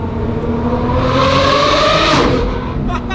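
A Lamborghini Revuelto engine roars steadily at high revs on a rocky mountain road, loud and close with a rising, strained tone, then easing off near the end.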